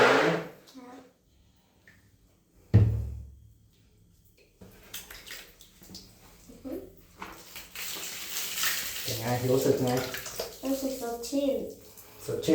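Water pours and splashes while a child's hair is rinsed during hair washing, intermittent close trickling and splashing bursts with people talking throughout.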